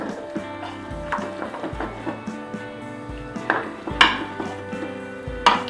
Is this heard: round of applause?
no